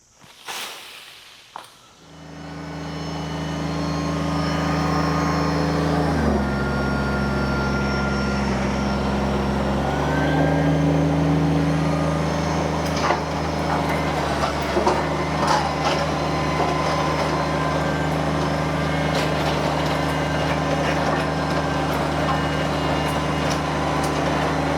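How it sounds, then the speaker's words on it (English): A small garden tiller engine starts after a couple of pulls, then runs steadily and loudly up close, its pitch dipping briefly a few times as it labours. "My goodness, this tiller is amazing."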